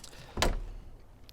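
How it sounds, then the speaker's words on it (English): Rear door of a Mk1 Vauxhall Astra saloon (Opel Kadett D) opens with a single short clunk and latch release, close by, then quiet. "if we open the rear door"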